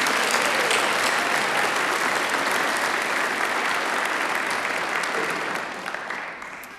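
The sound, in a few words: audience applause for faculty at commencement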